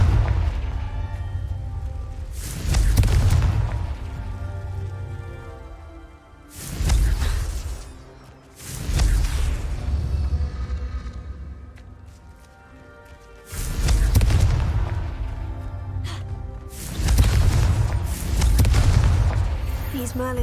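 Confringo fire spell explosions from the Hogwarts Legacy video game during the Merlin trials: four or five heavy booming blasts with long rumbling tails, spaced a few seconds apart under a steady background.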